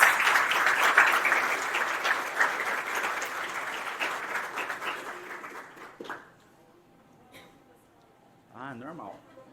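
An audience greets a speaker at a talk on strategic recruitment and selection with loud sustained applause that gradually fades out, followed by a brief pause and a voice starting to speak.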